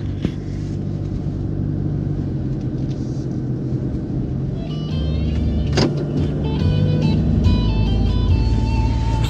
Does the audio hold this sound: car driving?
yes